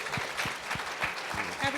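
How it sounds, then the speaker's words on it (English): An audience claps at a Safer Internet Day live event, the applause short and steady with distinct individual claps standing out over a general wash. "So big round of applause to them."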